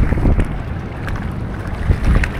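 Gusty amihan monsoon wind blowing hard over a coastal fishing spot, a continuous deep rumbling rush of wind against the microphone with slight swells in strength, and no voices.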